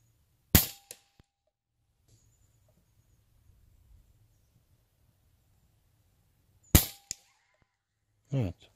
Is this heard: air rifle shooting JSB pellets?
yes